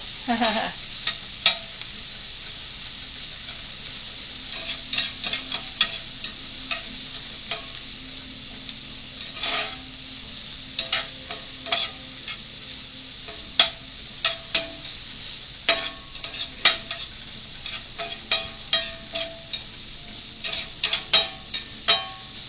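A vegetable omelette fries in Irish butter over medium heat, giving a steady sizzle with frequent sharp clicks and scrapes from a utensil against the pan.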